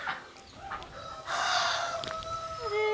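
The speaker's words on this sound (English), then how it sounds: "Hen." A rooster crows nearby in the open countryside, a drawn-out strained call rising and then trailing off, with faint bird chirps and a quiet outdoor background around it.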